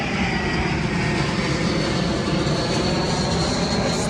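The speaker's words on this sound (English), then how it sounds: "Another plane." An airplane passes overhead with a steady, broad engine roar that fills the whole stretch evenly, loud and continuous, with no speech over it.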